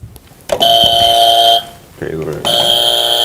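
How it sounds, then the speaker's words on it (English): Quiz show contestant buzzers being tested on a morning TV show: two loud, sustained electronic buzzer tones, the first lasting about a second, a short gap with voices, then a second buzzer that rings on. "But let's go test your buzzers for me, please."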